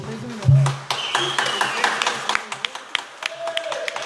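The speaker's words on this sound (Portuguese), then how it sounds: "uma salva de palmas aqui" Audience applause and scattered clapping at a live bar music show, with a few sharp claps rising over chatter and cheering voices, plus a brief tonal whistle or feedback sound in the room.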